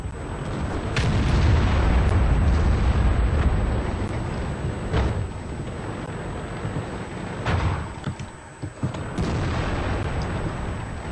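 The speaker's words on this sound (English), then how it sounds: "Got some heavy fire coming in here." Incoming heavy fire explodes in a tank battle video game featuring the Tortoise and FV215b tanks: loud, dense rumbling booms and bursts pile up over several seconds, then a few sharper blasts follow after a brief dip.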